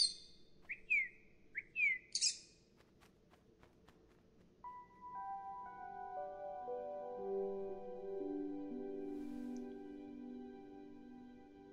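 A pet bird chirping indoors, first with a few sharp separate tweets, then a longer run of sustained whistled notes, faint and close, with no talk over it.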